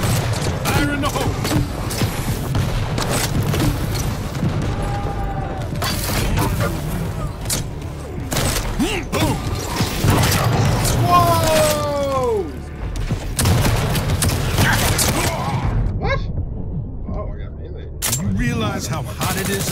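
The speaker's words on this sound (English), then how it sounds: "Fire in the hole!" Gunfire and explosive booms burst repeatedly through a Quake Champions deathmatch, loud and dense, with a voice speaking over the chaotic battle noise.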